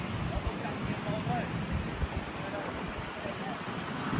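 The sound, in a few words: wind blowing over water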